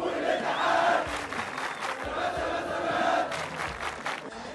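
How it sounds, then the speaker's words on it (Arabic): Football fans in a stadium roar and chant in surging waves, a massed crowd sound that rises and falls across the stands. "بيدعم جمهور الاتحاد السكندري بعد أزمة سقوط المدرج وهتف لهم سلامات سلامات"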